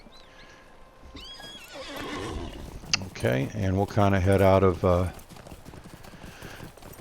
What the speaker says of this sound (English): now let's jump on the horse.